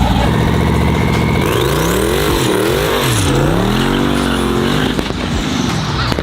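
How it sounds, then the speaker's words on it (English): A 1500HP all-wheel-drive sleeper car with an exhaust leak revs loudly and close, engine pitch sweeping up and down through several throttle blips over a continuous rasping exhaust drone. "I can definitely hear that exhaust leak now."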